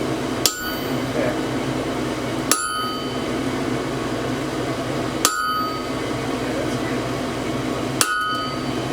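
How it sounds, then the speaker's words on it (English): A blacksmith hammers a punch through hot steel to widen a hole while forging an axe, four sharp metallic strikes spaced about two and a half seconds apart over a steady background roar. "Now we're using a larger punch to stretch out the hole."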